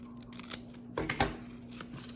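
Scissors snip through a paper cupcake card in a few close, crisp cuts, with small rustles of paper between the snips.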